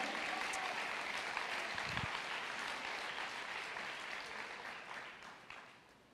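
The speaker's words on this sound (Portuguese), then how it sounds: "Pode aplaudir." A congregation at a sermon applauds in dense, sustained clapping that stays loud and then slowly fades toward the end.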